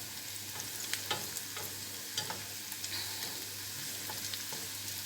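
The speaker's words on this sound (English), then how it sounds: "The onions and the garlic being caramelized, and we're keeping it this way for another minute or so." Onions and garlic caramelize in a pan with a steady broadband sizzle and a few sharp stirring scrapes and taps, moderately close and even in level throughout.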